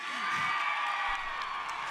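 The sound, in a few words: concert crowd applauding and cheering for the cameraman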